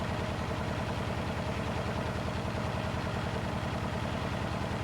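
A Blomberg WNF9448 washing machine spins a load of blankets and dog leads at around 600 RPM, giving a steady, rhythmic low drum and thump that stays loud and constant throughout.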